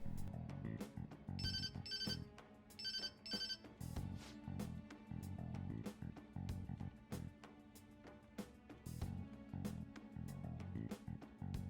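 A phone rings in the video game Persona 5 with a repeating electronic ringtone melody in short bursts, fairly faint over the game's background music, and nobody speaks.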